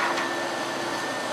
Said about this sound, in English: The vacuum is so loud.